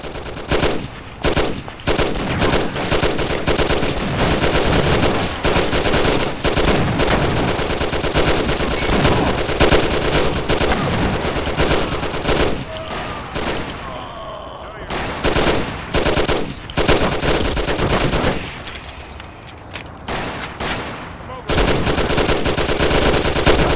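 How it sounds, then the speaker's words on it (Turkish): Sustained automatic gunfire in the Mafia: The City of Lost Heaven remake, with dense rapid shots and ricochets, loud and close. The firing continues almost without a break and stops only for brief pauses. "Mermi sekiyor ya. Sürekli sekiyor mermiler."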